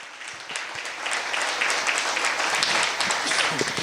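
Congregation applauding at a church service, a steady rising clatter of clapping hands filling the room, with faint voices underneath.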